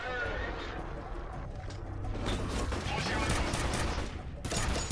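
Rapid gunfire rattles continuously against a heavy armored enemy in the shooter F.E.A.R., dense and loud with mechanical clatter, while a voice talks over the shooting.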